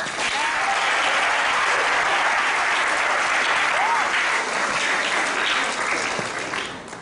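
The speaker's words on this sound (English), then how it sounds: "they deserve a big round of applause" Dense, sustained applause from a school audience at an 8th grade recognition night, loud and continuous for about seven seconds with faint cheers and shouts mixed in, tapering slightly at the end.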